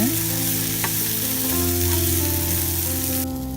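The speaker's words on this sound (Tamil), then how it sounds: "இப்போ நல்லா எண்ணெயில் வதக்கி விடுங்க." Chopped onions with salt fry in hot oil for Tamil channa masala gravy, making a loud, close, continuous sizzle that stays even throughout without speech.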